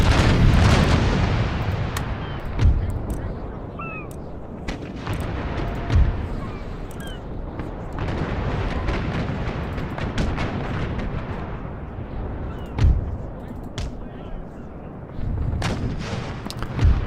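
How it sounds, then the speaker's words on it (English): Troops fire in a battle in the strategy game Empire: Total War (Darthmod) on the Ivory Coast: repeated booming cannon and musket volleys, some near and loud, others more distant, over a constant rumbling battlefield din. "They are reloading and firing well, aren't they?"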